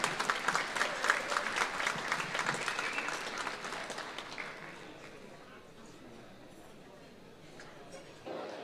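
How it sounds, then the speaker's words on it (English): Dense applause from a gala dinner audience, loud and steady for about four seconds before thinning into scattered claps and room murmur, honouring a Buffalo Sports guest at the 13th annual dinner dance. "A big round of applause for Ian Whitten, Mr. Ian Whitten from Buffalo Sports,"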